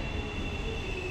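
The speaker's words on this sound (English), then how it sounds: "the legendary three train." Rumble of a New York City 3 subway train running along the track, with a steady high squealing tone from the wheels and a constant low clatter.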